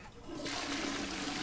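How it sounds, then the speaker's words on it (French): A toilet flushing in the Hogwarts Legacy video game, a steady rushing of water that swells in after a brief pause and holds for the rest of the moment, fairly quiet. "Et on peut tirer la chasse d'eau."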